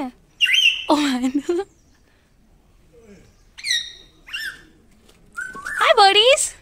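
Birds give loud, close whistling calls and chirps in separate bursts, with quiet pauses between them and a rich trill toward the end.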